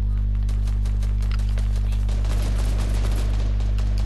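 Gunfire hits a player's building in the video game Fortnite, with a rapid, continuous rattle of shots over a loud, steady hum and a denser burst toward the end.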